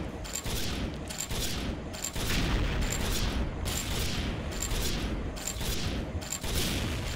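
Rapid, loud gunfire from the sniper rifle in the shooting game XSHOT, with repeated bursts of shots and booms in a steady rhythm throughout.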